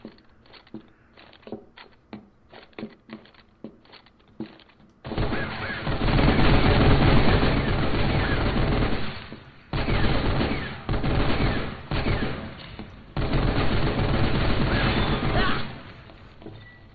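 Gunfire from a shooting sequence in Final Fantasy XV, Episode Prompto: a few sparse, sharp shots, then long, loud, sustained volleys of rapid fire with short breaks between bursts.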